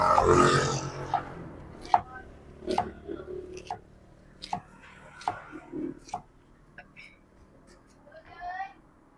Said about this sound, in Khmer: ខ្ញុំមកហាន់ថៃថៅជាកង់បែបហ្នឹង